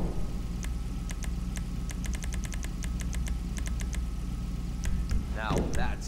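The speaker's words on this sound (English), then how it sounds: "Now that's an engine." A car engine idling in the video game Grand Theft Auto V, a steady low rumble beneath repeated sharp ticking clicks, with a brief voice near the end.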